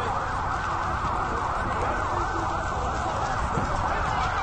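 An ambulance siren wails steadily near a fire at the Al-Zuhour residential complex in eastern Baghdad, a continuous tone over constant background noise with no clear speech.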